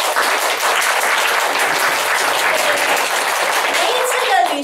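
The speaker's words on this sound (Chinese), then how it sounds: "来掌声热烈" At a closing meeting for a training trip, a roomful of people gives warm, sustained applause, with dense, even clapping that carries on for several seconds before tapering off.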